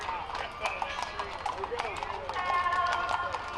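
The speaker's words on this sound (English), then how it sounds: "the sound of hooves on the street" Trail riders' horses clip-clop on a downtown street in San Marcos, many close hooves sounding in an uneven overlapping rhythm against the pavement.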